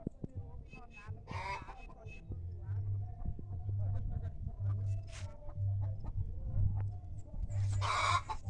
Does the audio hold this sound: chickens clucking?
yes